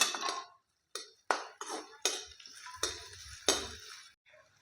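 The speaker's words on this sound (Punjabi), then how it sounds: "ਇੱਕ ਪਿਆਜ਼ ਬਰੀਕ ਕੱਟਿਆ ਹੋਇਆ ਪਿਆਜ਼ ਨੂੰ ਵੀ ਆਪਾਂ ਹੁਣ ਭੁੰਨ ਲਾਂਗੇ" Finely chopped onion frying in a pan for mixed vegetable sabzi, with a string of close metallic clinks and scrapes from a stirring spoon and bursts of sizzle between the strikes.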